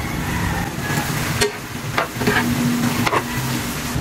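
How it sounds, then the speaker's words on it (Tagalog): Saluyot leaves stirred lightly into a cooking dish in a pan, a steady close sizzle with a few soft scrapes and knocks from the utensil, no talking. "Ilagay ang dahon ng saluyot. Haluin ng very light."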